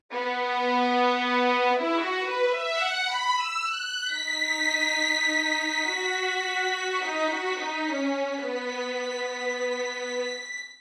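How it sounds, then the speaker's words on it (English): Sampled orchestral violins from the Tokyo Scoring Strings library play a sustained legato line with a second violin part in counterpoint, starting forte and gradually easing toward pianissimo. The notes are rich and bright, with smooth slides between pitches and no voices. "Let's start off with Violins I and a little counterpoint from Violins II."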